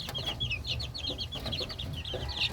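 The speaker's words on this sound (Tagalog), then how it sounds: "Yan yung mga sisiw na yan eh." Chicks peep repeatedly in high, short bursts on a farm, close by and fairly steady, over a low background of fowl clucking and faint outdoor noise; no talking.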